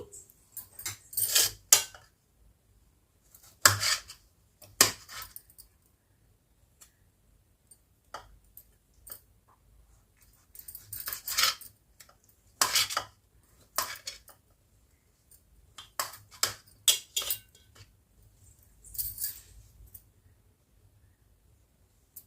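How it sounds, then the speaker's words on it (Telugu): A knife chops washed tomatoes into small pieces on a board, giving clusters of quick, crisp taps in short bursts with quiet gaps between, close and clear with no talking. "ముందుగా టమాటాలు వాష్ చేసి చిన్న చిన్న ముక్కలుగా కట్ చేసుకుందామండి"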